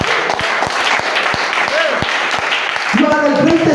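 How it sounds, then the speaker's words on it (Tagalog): A church congregation claps during a sermon, a quick burst of hand claps with a voice speaking over it and brief singing near the end. "palakpak mga kaigsoon sa Ginoo."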